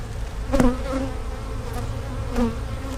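Honey bees buzz around an open beehive, a dense close drone with individual bees passing loudly near the ear, no speech.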